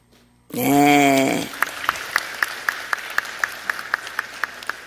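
After a loud, sustained tonal blast at the start, an audience at a political speech claps in a slow, even rhythm of single sharp claps spaced about a third of a second apart, with a murmuring crowd beneath.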